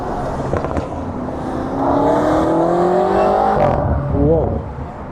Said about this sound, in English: That BMW is making a ruckus.